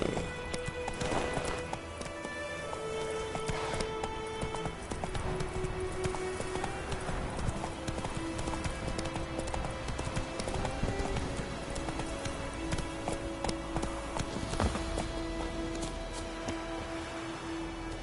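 Horse hooves clip-clop at a gallop in The Witcher 3, a steady, close, rapid drumming of hoofbeats that carries on throughout, with a game music bed and faint whinnies underneath.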